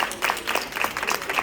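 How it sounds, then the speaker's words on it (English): A short burst of dense, continuous applause from a crowd at a pre-Mother's Day brunch, close and steady with no pauses. "Let's give her one more round of applause."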